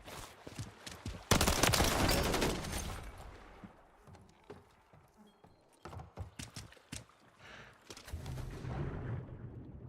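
Gunfire in the video game Call of Duty: Modern Warfare 3 multiplayer, with a loud dense burst of shots early on followed by scattered sharp cracks and thuds, fairly close.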